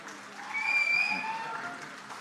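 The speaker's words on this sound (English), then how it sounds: "So big applause for them" An audience at a business networking event applauds, with a moderate wash of clapping that swells in the middle and eases off while a faint tone sounds behind it.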